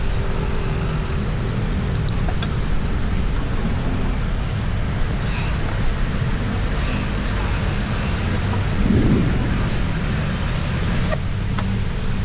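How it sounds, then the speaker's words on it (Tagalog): Heavy rain pours down in stormy, typhoon-like weather around Marikina and Quezon City, a steady dense roar of downpour that holds at the same loudness throughout. "Malakas ulan dito."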